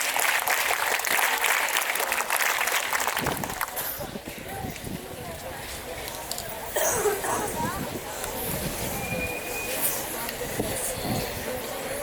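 Cadets at a school Children's Day prize ceremony clap in a sustained crowd round for winners, dense broadband clapping that dips slightly midway then continues steadily, with talk and cheering mixed in.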